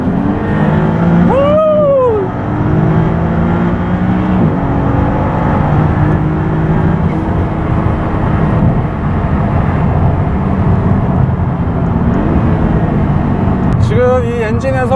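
A Maserati MC20 with a rear-mounted turbocharged engine drives on the road, its loud engine note roaring steadily, with pitch sweeps as it shifts and a rising rev near the end.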